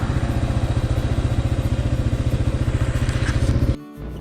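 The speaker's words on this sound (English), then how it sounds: "Long haul on the motorcycle" Kawasaki KLR motorcycle riding on a highway near Glacier National Park, its single-cylinder engine thumping in a steady, fast, loud pulse close by, then cutting off abruptly at the end.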